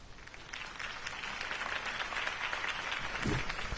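A crowd applauding steadily in the Batman Telltale video game, a dense patter of many hands clapping that builds slightly and holds, heard from a moderate distance.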